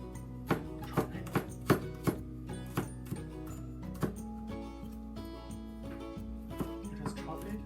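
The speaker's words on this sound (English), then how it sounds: "Then just chop it." Knife chopping boiled shrimp ingredients on a cutting board, a run of sharp, close, evenly spaced chops that slow and thin out toward the end, with faint background hum.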